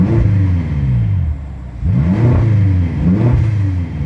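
BMW X6 M exhaust revving hard in a series of rising and falling blips, loud and close with a deep, rumbling engine note and no talking.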